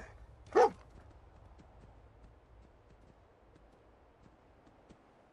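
A single short dog bark rings out in the video game Fallout 4, followed by quiet ticking and faint ambient game noise.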